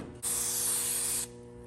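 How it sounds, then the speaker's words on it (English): A steady aerosol spray of Fluid Film hisses for about a second against a low background hum. "first thing I'm gonna do is gonna spray some cleaner on it"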